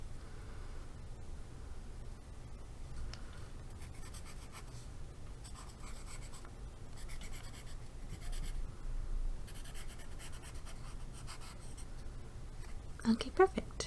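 A pencil writes on paper in close, continuous scratchy strokes that go on for several seconds, with quiet talking alongside.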